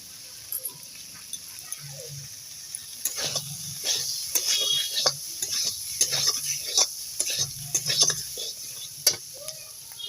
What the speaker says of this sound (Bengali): আলুটা ভালো করে কষিয়ে নেব